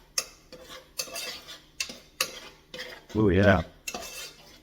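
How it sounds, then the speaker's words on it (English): A utensil stirring honey into a drink mixture, clinking against the glass in a string of sharp taps and scrapes, close and fairly loud, with a brief voice partway through. "so I'm just going to stir it up"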